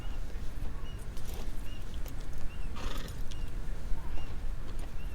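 A video game horse gallops with rapid clip-clopping hooves and gives a whinny partway through, heard steadily at moderate loudness with faint background sound and no voices.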